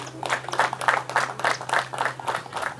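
Guests at a Rwandan wedding ceremony clap together in a steady, even rhythm, with sharp beats roughly three per second over a low background hum.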